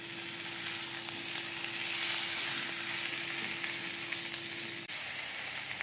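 Tomatoes sizzle steadily in a hot pan with a constant bright hiss, and the stirring brings faint scraping near the end.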